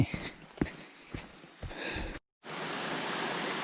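A mountain valley stream on Deogyusan runs with a steady, close, rushing hiss that fills the second half, after a few footsteps and breaths on a steep descent.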